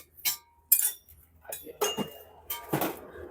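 Spoons and metal utensils clinking at a market stall selling old ship salvage goods, several short bright chinks in quick succession, close by and moderately loud.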